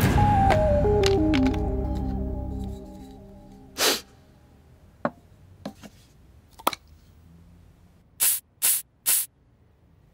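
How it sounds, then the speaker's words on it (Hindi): A perfume spray bottle hisses in several short, sharp bursts, some single and one quick run of three, close and loud against a quiet room after fading music. "वो स्प्रे है पापा, स्प्रे। उसको सेंट बोलते हैं"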